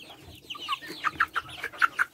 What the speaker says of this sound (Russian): А это курочка.